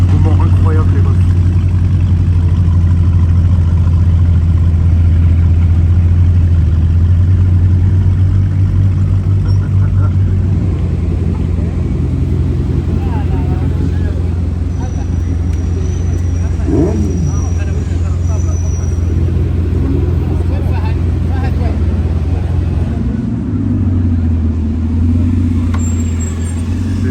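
A Bugatti Chiron Super Sport rumbles with a deep, steady engine idle that carries on throughout, close and loud on a busy Paris street, with people talking over it.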